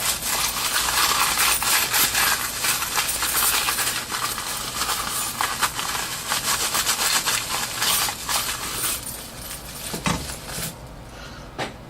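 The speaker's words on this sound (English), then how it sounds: "we're going to take a small bag just full of some change, throw some keys in there, and we're just going to toss the phone in" An iPhone shaken around inside a small bag of loose coins and keys, giving a continuous loud metallic jangle and rattle with scraping, easing toward the end.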